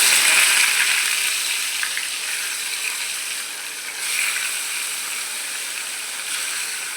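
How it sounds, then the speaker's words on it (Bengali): Small fish frying in hot oil in a home kitchen, a steady broad sizzle and hiss holding throughout at moderate loudness, with no voices. "গরম হয়ে গেছে, মাছগুলা ভেজে নিচ্ছি।"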